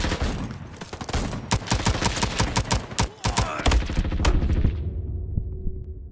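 Rapid bursts of gunfire from the Roblox shooter Frontlines, including pistol shots, crack in dense volleys over a rumbling low battle din, the firing trailing off into a steady hum near the end.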